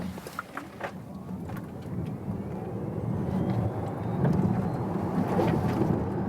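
Skoda Enyaq Coupe RS dual-motor electric car accelerating hard on an open road, a steady rising whine and rushing road and wind noise that builds in loudness, heard from inside with no talk.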